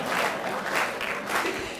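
Audience applause at an Independence Day kavi sammelan poetry event, a dense steady patter of many hands clapping in swelling waves, fairly loud and without speech.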